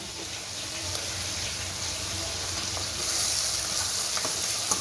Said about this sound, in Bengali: চিংড়ি মাছটা অ্যাড করছি